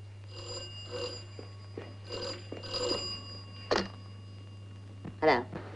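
An old-fashioned telephone bell rings in short bursts in a 1930s British setting, heard faintly alongside a steady low hum, with a voice speaking between the rings.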